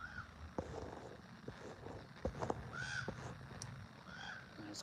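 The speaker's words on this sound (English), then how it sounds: "Those crows are going crazy over there." Several crows caw repeatedly outdoors near a garage, harsh calls coming at irregular intervals over a low background hum and a few soft knocks.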